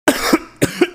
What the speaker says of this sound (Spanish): ¡Mira cómo estás de la tos!